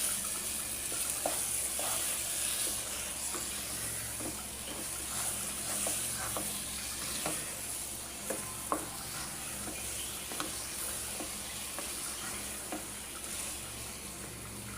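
Carrot halwa frying in ghee, a steady soft sizzle with scattered stirring scrapes and clicks of a spoon against the pan, close and continuous with no voices.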